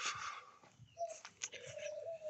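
A female diamond dove in an aviary coos softly, with two faint, low, drawn-out notes that are quiet and a little distant, over light background rustling.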